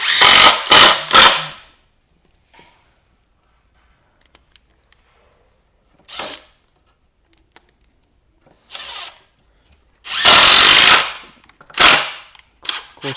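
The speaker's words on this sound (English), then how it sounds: "Now I screw these together." A power drill drives screws into wood while a 30-shot fireworks finale rack is assembled, with several short loud whirring bursts separated by quiet gaps and faint handling clicks.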